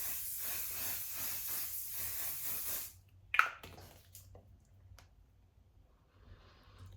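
Charlotte Tilbury Airbrush Flawless setting spray misted in a steady, breathy hiss lasting about three seconds, followed by a couple of soft clicks and handling noises in a quiet room.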